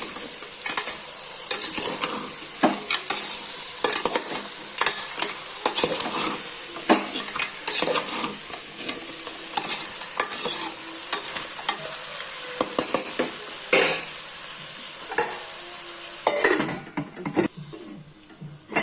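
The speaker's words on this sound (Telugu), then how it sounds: "టమాటా ముక్కలు వేసి మళ్ళీ ఒకసారి బాగా కలపాలి" A spoon stirs chopped tomato pieces into a simmering pot of curry, with a continuous hiss of cooking and frequent scraping and clacking strokes against the pan, close and steady for a long stretch without talking.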